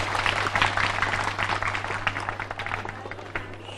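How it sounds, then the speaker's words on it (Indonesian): Audience applause during a talk on peace in Bali, a fairly close, even patter of many hands clapping at a steady pace, fading slightly toward the end, with a constant low hum beneath. "Tepuk tangan dulu."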